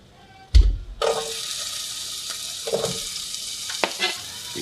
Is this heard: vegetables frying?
yes